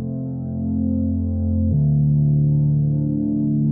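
Detuned saw-wave synth pad, lightly filtered and washed in reverb, holding a sustained chord that shifts to a new chord partway through, steady and fairly loud with no voices.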